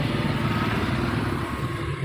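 Engines rumble steadily from cars and motorcycles in a busy parking area in Ketandan, Yogyakarta near Malioboro, a continuous loud drone of idling and moving vehicles.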